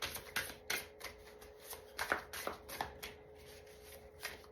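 Angel cards being shuffled by hand, a crisp papery riffle repeating in quick, uneven bursts, close and fairly loud with no talking.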